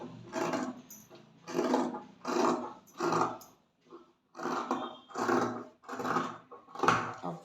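Scissors snipping through blouse fabric in a steady rhythm of about eight rasping cuts, each a short crunchy stroke separated by brief pauses, close and alone without talk.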